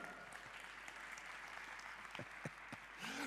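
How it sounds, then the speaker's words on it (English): Steady applause from a conference crowd greeting a speaker at an iGaming industry event in Valletta, Malta, a soft continuous patter of clapping that stays even and somewhat distant throughout. "Please join me in giving a very warm first big round of applause"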